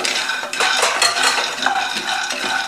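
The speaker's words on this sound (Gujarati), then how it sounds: "કન્ટિન્યુ હલાવતા જાય અને ઉપરની છાલ અલગ થવા લાગે ત્યાં સુધી સિંગને શેકી લેવાના છે" A spatula scrapes and clatters steadily through peanuts roasting in hot oil in a pan, with a continuous dry rattling and stirring close up and no voices.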